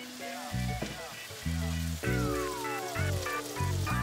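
Wine poured into a hot pan of beef stock and herbs for a lamb-stuffed acorn squash dish. It gives a steady, close sizzle and bubbling under prominent background music.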